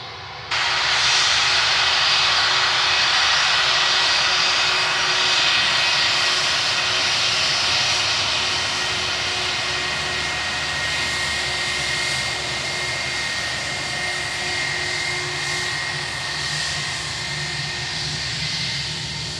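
A British Airways airliner at Glasgow Airport runs its jet engines, a sudden loud, broad roar with a steady high whine that holds for nearly twenty seconds and eases slightly toward the end.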